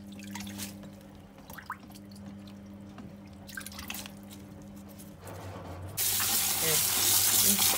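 Mint leaves being washed a second time under a running kitchen tap, water dripping and trickling steadily before the flow strengthens into a louder gush near the end.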